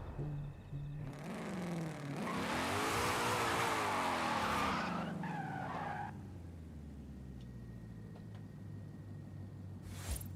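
A Ford Mustang in Forza Horizon 5 screeches through a long tire skid while its engine howls and sweeps upward, then the squeal drops away to a steady low engine drone.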